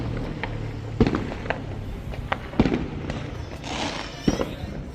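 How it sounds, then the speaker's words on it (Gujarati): Diwali firecrackers go off around a London neighbourhood at night, a few sharp distant bangs and crackles over a steady low outdoor rumble. "ફટાકડા ફૂટી જો અવાજ આવતા હશે તમને"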